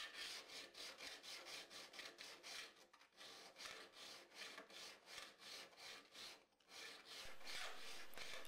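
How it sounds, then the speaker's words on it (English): A metal file rasps back and forth across the edge of a steel cabinet scraper in a luthier's workshop, steady rhythmic strokes repeating close up, with two short pauses between passes. "You want to file until you feel a burr on the edge of the scraper."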